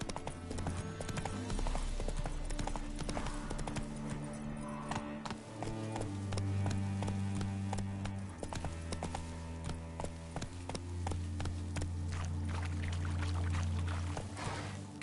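Roach, a horse in The Witcher 3 video game, gallops with a steady clip-clop of hooves that runs throughout, under a loud game soundtrack and layered ambient effects.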